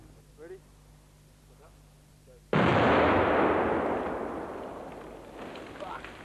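A single loud gunshot at a shooting session booms out after a quiet stretch with speech, its blast followed by a long decaying rumble and echo; a voice talks before and faintly after.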